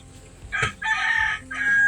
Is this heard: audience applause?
no